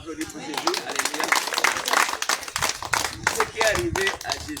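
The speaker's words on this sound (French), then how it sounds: "Allez, applaudis pour Jésus, alléluia" An audience at an evangelism rally claps in quick, uneven bursts close by, mixed with voices and cheering.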